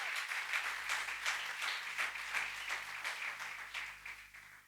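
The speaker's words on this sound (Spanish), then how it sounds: "Dale un aplauso a Jesús." A church congregation clapping for Jesus, steady rhythmic applause from many people in a hall, moderately loud and continuous, fading slightly at the end.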